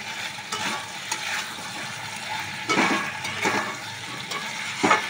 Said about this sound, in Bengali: এবার ভেজে রাখা চিকেনগুলো দিয়ে দিলাম।